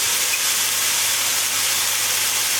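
Onion and orange sizzle loudly and steadily in a hot pan, a dense continuous hiss with no pause while the mixture caramelizes.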